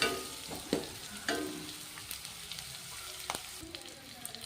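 Tomato gojju frying on a low flame in a pan, a soft, continuous sizzle with occasional scraping stirs and light clinks, close and fairly quiet, no voices.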